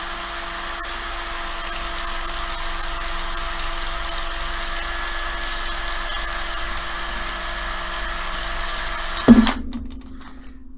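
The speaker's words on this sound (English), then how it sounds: "Watch the beauty of how fast I can sand these down." A power drill spins a sanding attachment against small crash test car parts, giving a steady high whine for several seconds before a sudden clatter, then the motor cuts out.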